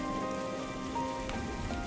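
Steady rain in the video game Xenoblade Chronicles 3, a continuous wash of raindrops on surfaces with faint tonal game sounds underneath, no voices.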